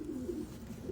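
An imported racing pigeon cooing, a soft low throaty coo heard close up for under a second.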